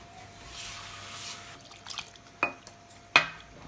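Water being added to appam batter with cashew nuts and stirred in a kitchen bowl, a soft faint pour followed by two sharp utensil clinks against the bowl.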